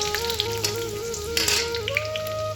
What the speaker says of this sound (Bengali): প্রথমে তেলটা যেই গরম হয়ে যাবে, রসুন কুচিগুলো দিয়ে দেবো এর মধ্যে।